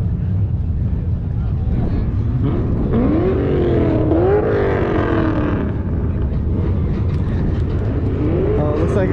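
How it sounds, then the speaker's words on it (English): Cars drift at the LS Fest West event, with engines revving and rising in pitch in waves, heard from a distance under heavy wind rumble and steady outdoor noise. "Oh, looks like they're gonna be doing some drifting."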